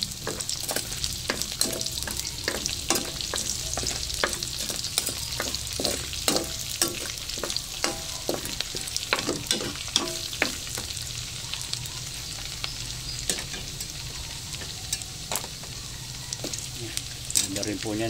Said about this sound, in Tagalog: dito po isisimulan natin ang pagigisa ng bawang